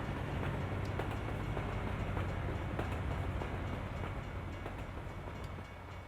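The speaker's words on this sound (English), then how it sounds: "Approaching a train track now, so we'll be able to see a train." A double-decker train rolls past a truck at a level crossing in American Truck Simulator, a steady low rumble with faint clickety-clack of wheels on rail joints, fading slightly toward the end.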